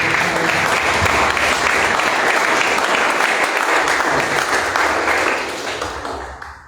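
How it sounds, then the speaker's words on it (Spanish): An audience applauds a poet at a Cuban cultural event, dense sustained clapping from a sizeable crowd, loud and even before tapering off toward the end. "Para él, un fuerte aplauso."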